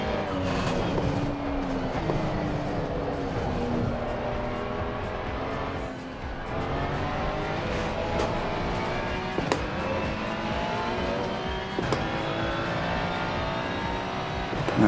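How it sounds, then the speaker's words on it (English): A race car engine in Assetto Corsa Competizione revs and winds through its gears, rising and falling pitch over a sustained roar, with a few sharp pops along the way. "it feels good to rev it out"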